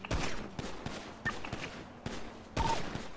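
Gunfire in a GTA NoPixel roleplay shootout comes as a series of sharp, separate shots spread out at irregular intervals. Several are loud and close, and no voices are heard over them.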